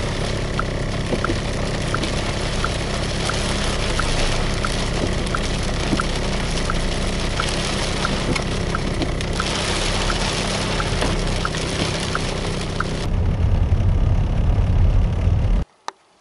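A car drives along the road home, a steady engine and road hum filling the cabin with faint ticking, then a lower rumble before it cuts out abruptly at the end.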